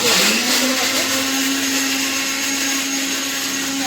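A kitchen mixer grinder runs loud and steady as it grinds spices, with a constant high motor whine and whirring blades throughout.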